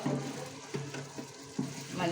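Curry simmering and sizzling in a Walton electric multi cooker with only a little water, a steady close frying hiss broken by a few soft stirring scrapes.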